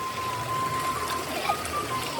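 A small stream flows steadily beside a riverbank, a soft continuous wash of water at moderate distance with no talk.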